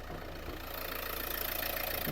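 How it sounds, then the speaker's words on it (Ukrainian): Renault Megane 3 with a 1.5 diesel engine (K9K, 110 hp) idling under an open hood, a steady close, even mechanical hum with a faint rhythmic knock, with no speech. "Двигун працює чітко"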